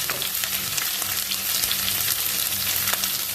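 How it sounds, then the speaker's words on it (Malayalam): Crushed shallots, garlic and ginger fry in oil in a pan for a Kerala beef and banana dish, giving a steady, close sizzling crackle with scattered sharper pops and light stirring throughout, no voices. "ആദ്യം തന്നെ ചെറിയ ഉള്ളി ചതച്ച് വെച്ചിരിക്കുന്നത് ചേർക്കാം"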